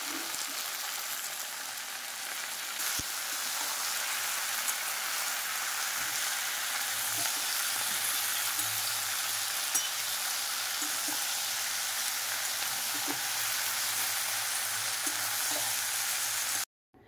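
Pieces of banana flower fry with peas and chopped eggplant in a hot pan, making a steady, dense sizzle that carries on without a break for the whole stretch, with faint stirring knocks now and then.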